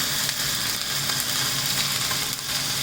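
Onions and green chili with cumin and a pinch of salt sautéing in a pan, a continuous bright sizzle and crackle, close and steady throughout with no talk.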